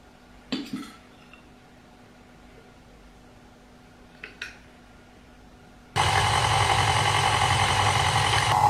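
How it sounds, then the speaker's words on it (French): A small food processor kneading pasta dough of extra-fine semolina, flour, eggs and olive oil starts up, a steady loud motor drone that runs continuously through the last few seconds after a couple of brief knocks and clatters. "mon petit robot va tout pétrir et j'ai rien à faire"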